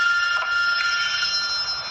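A telephone rings steadily and fairly loudly on its own in an indoor shop setting, a continuous electronic trill lasting the whole stretch with no talk over it.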